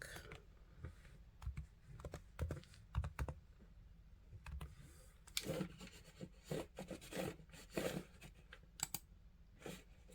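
Typing on a computer keyboard to enter a material name in Cricut design software for an acrylic night light project: bursts of quick, close key taps with short pauses between, no voices.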